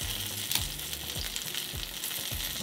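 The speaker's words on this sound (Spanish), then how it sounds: "Y ya que se caliente, van a poner a asar unos cebollines." Green onions roast in hot oil in a pan with a continuous bright sizzle and crackle, steady and fairly close, with no talking.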